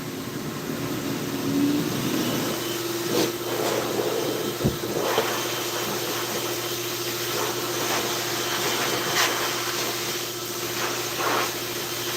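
A pet grooming vacuum runs at a higher speed on a cat, giving a steady, loud whooshing drone that holds for the whole stretch, with small surges and a brief knock midway and no talk over it.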